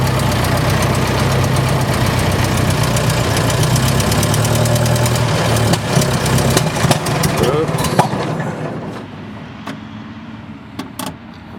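A 1924 Dodge 116 Tourer engine starts and idles with a loud, rough, uneven running rumble that sputters and dies away toward the end, leaving a few clicks.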